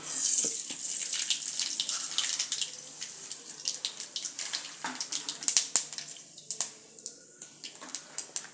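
Mustard seeds sizzle and crackle in hot oil in an eggplant dish, a close hissing fry with irregular sharp pops that grow sparser toward the end.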